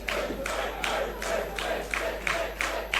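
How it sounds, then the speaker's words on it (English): A wrestling crowd at a singles match chants in a steady rhythmic pattern, loud bursts of voices repeating about every half second throughout, with no commentary over them. "he's getting annoyed that they're cheering for Moralez"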